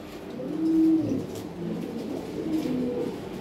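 Original European Lahore pigeons, toy and jumbo-sized birds kept for sale, give low, soft throaty coos in a few rolling phrases, close by and fairly quiet, with no one talking.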